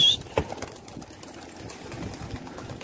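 Pigeons flutter and coo over a brief stretch, with a soft wing flurry and low cooing alongside faint outdoor background noise.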